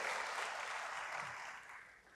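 Steady applause from a church congregation, a dense clatter of clapping that holds for a couple of seconds and then begins to fade.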